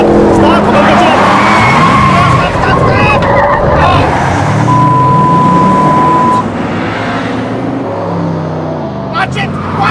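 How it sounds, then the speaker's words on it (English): A car driven fast with its engine roaring and tires squealing and skidding, loud and close, under frantic shouting from people inside. "please stop the car, or at least slow down"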